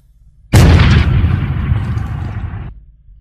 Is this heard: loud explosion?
yes